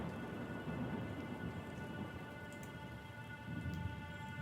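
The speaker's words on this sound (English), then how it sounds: "So I just added a little bit of bigger thunder." Thunder and rain sound effect layered into an emotional future bass track made in FL Studio: a continuous wash of heavy rainfall with a low rumbling undertone, steady and full throughout.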